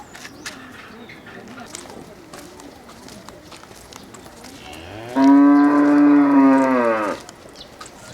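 Cows walking around a monastery in India; one cow lets out a single loud, near, drawn-out moo lasting about two seconds after a quieter stretch of outdoor background.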